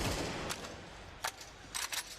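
Sparse gunfire during a competitive Counter-Strike 2 match, heard as a single crack followed by a quick cluster of three or four shots, fairly faint over steady in-game ambience, with no one speaking.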